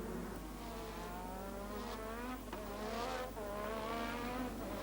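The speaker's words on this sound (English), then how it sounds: "Rosberg locked up a brake trying to get an inside slot that didn't exist." A 1986 Formula One car at a Grand Prix screams past with its engine note rising and falling, while a brake lock-up brings a rough tire scrub and skid over a constant loud roar.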